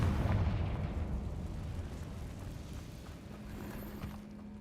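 A Confringo blasting spell explodes in Hogwarts Legacy inside a cave: a deep, rumbling boom that starts loud and slowly decays into a low, fading roar.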